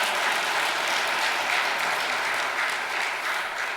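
A congregation at a church worship service applauds Pastor Lee In-gu with steady, dense clapping that holds at an even, full level for several seconds, with no voices over it.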